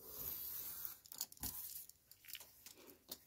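Quiet crisp snips and tearing rustles as the edge of a paper page is cut off for a craft project, a few short bursts close by with no talking.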